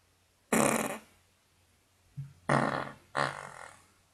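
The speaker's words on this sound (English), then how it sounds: "I've got a big fart coming" A man forcing out a loud fart, then two more. One long blast comes first, a short grunt follows, and then two close, strong bursts end the sequence in a quiet room.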